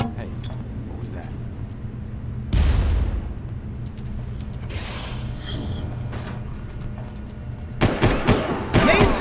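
Grenade explosions in Far Cry land as a heavy boom at about a third of the way in, with later loud blasts and gunfire at the end, while a voice talks over the game.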